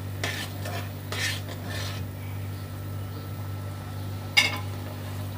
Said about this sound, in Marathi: आताच आपण जी भाजून ठेवलेले सांडगे होते ते टाकून घेऊ. एकदा व्यवस्थित मिक्स करून घेऊ सर्व.